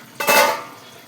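A lid goes onto a cooking pot of chicken simmering in milk, one brief metallic clink and rattle up close, then quiet.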